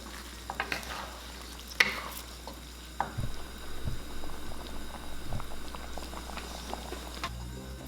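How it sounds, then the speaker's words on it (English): Shrimp, scallops and vegetables bubble and sizzle in a thickening sauce in a pan, with occasional utensil scrapes and taps as they are stirred, close and steady. "Return the shrimp, scallops, and vegetables. Stir and cook for another 1 to 2 minutes."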